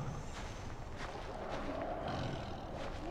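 Lions roaring in Far Cry Primal, a steady, low, growling rumble of big cats at a middling distance over a dense wild soundscape, continuous for about three seconds with no voices.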